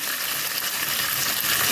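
A cinnamon stick frying in a pan of onions cooked with a little salt gives a steady, close, even sizzle that holds without a break.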